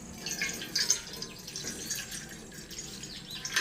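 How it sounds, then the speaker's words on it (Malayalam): Water poured into a pot at home to brew black tea, a soft, steady trickling and splashing stream lasting the full few seconds, fairly quiet and close. "അതിനായിട്ട് ഒരു പാത്രത്തിലേക്ക് 2 ഗ്ലാസ് വെള്ളം ഒഴിച്ചു കൊടുക്കുന്നുണ്ട്."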